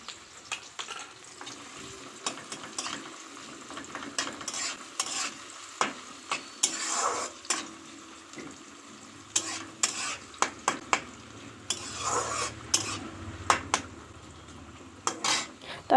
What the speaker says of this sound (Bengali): তারপর আবার খোলাতে কিছুটা তেল নিয়ে সাথে কিছুটা তেজপাতা, এলাচ, লবঙ্গ, দারচিনি সব রকম দিয়ে দিলাম। আস্তে আস্তে সবগুলো নেড়ে নিলাম।